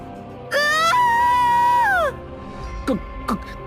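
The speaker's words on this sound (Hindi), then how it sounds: "जोरदार चीख निकल गई" A loud, piercing scream sound effect in a Hindi horror story: one long wavering shriek lasting over a second and a half, falling at the end, then two short sharp cries after a brief pause.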